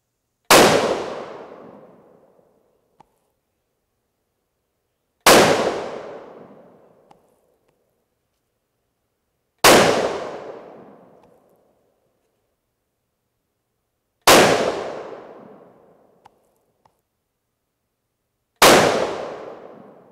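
Five loud, sharp rifle shots from a Remington 700 firing 90 grain Sierra Game Changer handloads over Reloader 16 powder, each crack decaying quickly, spaced about four to five seconds apart with silence between.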